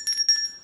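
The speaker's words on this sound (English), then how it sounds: "I bought a bell." A handheld dinner bell rings twice in quick succession, bright clear metallic tones with a short ringing decay, close and fairly loud with no voices.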